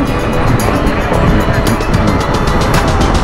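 Loaded touring motorcycles, among them a Honda Africa Twin, ride past on the road toward Ladakh, a loud close engine drone and wind rush with rhythmic pulsing as they go by, alongside the recording rider's own travel.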